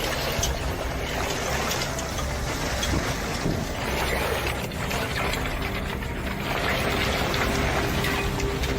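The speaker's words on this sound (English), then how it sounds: "More heavy hail." Heavy hail pounds down in a destructive storm, a dense, unbroken roar of clattering impacts at steady loudness throughout.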